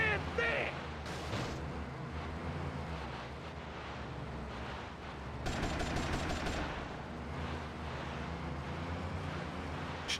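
Gunfire in Grand Theft Auto Vice City crackles almost without pause across a dense, noisy game mix, with rapid bursts of shots and heavier booms, and voices talking underneath.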